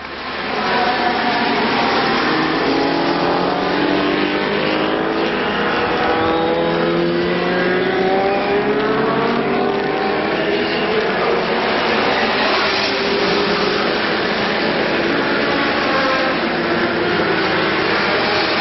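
A Honda racing motorcycle engine, bike number 45, holding a sustained high-revving whine with shifting pitch throughout, loud and continuous, heard from onboard or close by.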